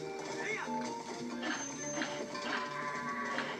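Goats in the video game Zelda: Twilight Princess bleat in a steady run of wavering calls over busy game music and ambience, with a voice talking over them.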